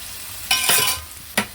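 Fish fries in a pan with bright, steady sizzling, broken by two sharp bursts of louder crackling as the pieces are stirred or turned, close and loud with no talk.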